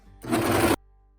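A sewing machine stitches off the end of a seam on a summer dress with a tulle skirt: a single loud, steady half-second whir that stops abruptly, with quiet before and after.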